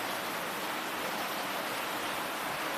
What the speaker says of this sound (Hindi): बारिश देखो कितनी हो रही है यार इधर